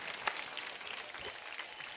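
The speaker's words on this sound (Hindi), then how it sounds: "जोरदार तालियां हो जाए साजन और पुनीत के लिए।" A TV dance show audience gives dense, steady applause for the dancers, with clapping sustained at a moderate level throughout and a brief sharp accent near the start.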